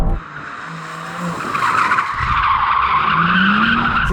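A new BMW M4's tyres spin and squeal on tarmac, a loud sustained shriek over a roaring engine, steady and close for several seconds.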